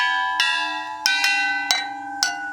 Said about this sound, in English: He cut all the oxygen tanks off at various heights so that he could create different bellows with it.